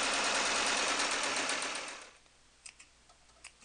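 A sewing machine runs steadily for about two seconds, stitching cloth doll arm pieces, then stops, followed by a few faint clicks.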